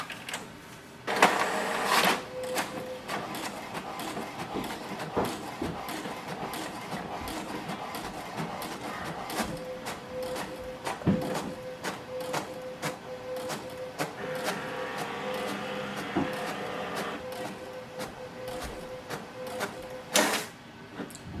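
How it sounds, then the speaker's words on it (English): An HP DeskJet inkjet printer prints an alignment page, with rhythmic mechanical whirring, carriage movements and sharp clicks and clunks throughout. "Wait for the printer to print the alignment page."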